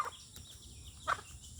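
A chicken in a Filipino backyard flock gives two short clucking calls, one at the start and another about a second later, over faint ambient background.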